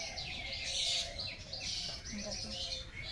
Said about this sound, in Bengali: সকালে ঘুম থেকে উঠে আমার তো খুবই ভালো লাগে এরকম পাখির ডাক শুনতে